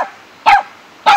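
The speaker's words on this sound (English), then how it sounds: "I'm Gizmo. Barking at water." A dog barks at moving water, two sharp, loud single barks about half a second apart, close by with quiet between them.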